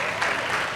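A gala audience breaks into a short burst of clapping, a dense, even patter of many hands heard from within the hall.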